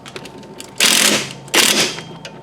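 A bolt is tightened down on a front strut of a Chevy HHR. It comes as two close bursts of loud, rapid mechanical rattling, each about half a second long, with quieter clicking around them.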